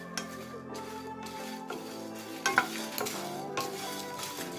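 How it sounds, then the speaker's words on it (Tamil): Dried chilies and whole spices being dry-roasted in a pan, giving a soft, steady close-up rustle of stirring with faint sizzle and a few scraping clinks, no voices. "இப்போ இதை கொஞ்சம் ட்ரை ரோஸ்ட் பண்ணி எடுத்துக்கலாம்."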